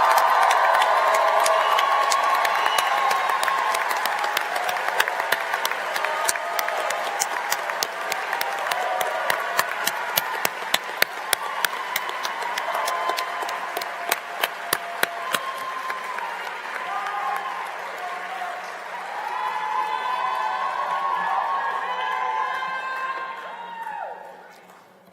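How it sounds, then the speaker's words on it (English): A medical school commencement audience applauds and cheers for the graduating class, a broad sustained wash of clapping with scattered whoops and shouts that fades out at the end. "let's give a round of applause for the class of"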